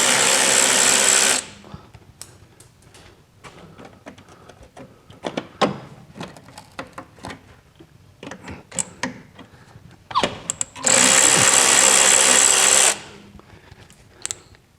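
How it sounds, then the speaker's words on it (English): A power ratchet removes brake line fittings at the master cylinder of a 1973 Super Beetle. Two loud, sustained whirring bursts come at the start and near the end, with scattered clicks and metallic clanks from the fittings between them. "just cut them and then ratchet, because then you don't have to,"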